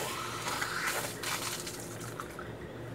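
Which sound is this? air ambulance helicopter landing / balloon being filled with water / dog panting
balloon being filled with water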